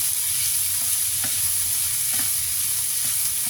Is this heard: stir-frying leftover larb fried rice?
yes